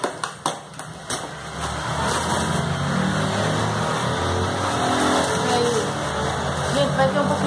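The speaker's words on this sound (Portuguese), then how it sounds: "vai ter um pouquinho de barulho porque tá passando o carro aqui, viu? Na frente." A car passes on the street in front of a house, a broad engine and tire rumble swelling and lingering for several seconds, moderately loud, after a few sharp rustling or plastic clicks at the start.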